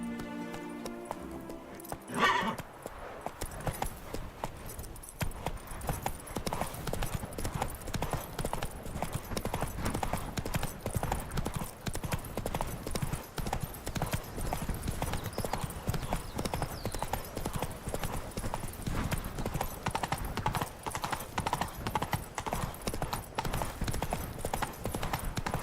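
Roach the horse galloping in The Witcher 3, steady rhythmic hoofbeats near and loud running continuously throughout, with a brief shout near the start.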